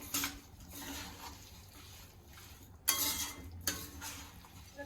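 A utensil scrapes and clinks against a pan as jaggery syrup is stirred for raw mango muramba. Several sharper knocks and scrapes stand out above a soft, bubbling background.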